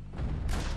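A brief burst of heavy, booming gunfire from the video game Max Payne 3, loud and dense for under a second.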